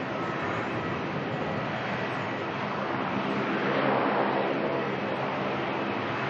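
Jetstar airliner departing Melbourne airport, a broad rushing jet roar that swells slightly toward the middle and stays steady and fairly distant, with no talking.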